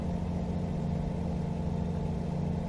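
A Volvo VN truck engine in American Truck Simulator runs as a steady, low, droning rumble that is continuous and fairly loud, with no talk over it.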